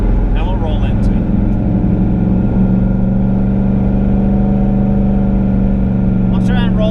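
A 1,000-horsepower turbocharged 2018 Mustang GT runs with a loud, steady engine drone heard from inside the car, holding a sustained tone as it pulls, with faint voices briefly at the start and end.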